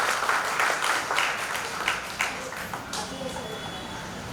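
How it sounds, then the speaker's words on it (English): A group at a birthday celebration for a manager claps for dancers and their teachers, moderate applause with some voices mixed in, tapering off toward the end. "big round of applause to all the moves, grooves and the prompt arrangement by our teachers"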